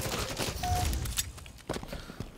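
Gunfire in a video game battle, with dense rapid shots and impacts crackling throughout a brief loud stretch, mixed with busy game effects.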